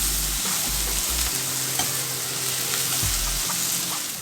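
Onion slices and Chinese cabbage fry in melted lard with garlic paste, giving a loud, continuous sizzle with scraping stir strokes and a low rumble from the stove underneath.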